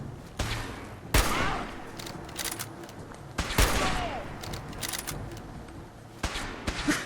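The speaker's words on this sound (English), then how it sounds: "Just some quick VATS shots, and he's taken care of." Gunfire in the video game Fallout 4 during VATS targeting, several sharp separate shots with echoing tails spaced a second or two apart, mid-distance and fairly loud over game ambience.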